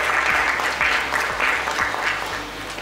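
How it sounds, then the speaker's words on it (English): Audience applause fills a restaurant awards ceremony, a steady, dense wash of many hands clapping close and loud, tapering slightly toward the end. "Big round of applause."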